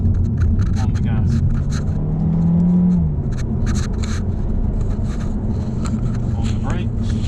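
A car with a double clutch transmission accelerates on tight, twisty roads with a steady low engine rumble, heard from inside the cabin, with a brief rising engine tone partway through.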